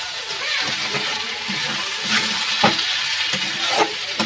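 Ground spice powder of coriander, fennel and dried red chilli being stirred into vegetables frying in a pan, with a steady close sizzle and scraping spatula strokes recurring every second or so.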